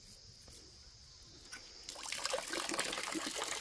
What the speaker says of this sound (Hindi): फिर भी पानी बहुत कम आ रहा है।